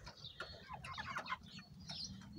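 Young chickens clucking and cheeping at a moderate distance, a run of short chirps and clucks scattered over a low steady background hum, with no talking.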